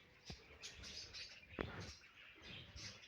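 Small cage birds, canaries and amadina finches, chirp in short scattered calls at low level, with a couple of sharper close chirps standing out over faint background noise.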